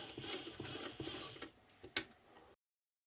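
A sewing machine stitches a half-inch seam allowance on a corset toile in a short, quiet run of mechanical ticking and whirring, ending with a brief sharp click before silence.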